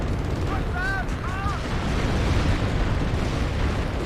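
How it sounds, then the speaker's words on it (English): Artillery explosions in the Cold War strategy game WARNO rumble as a dense, continuous roar with a few whistling shell sounds early on, steady and loud throughout. "some of our artillery is getting destroyed"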